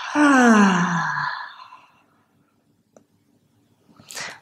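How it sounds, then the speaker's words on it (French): A long, breathy exhale through the mouth during a yoga ab workout, loud and close and fading over about two seconds, then quiet with a soft rustle near the end. "Expire par la bouche."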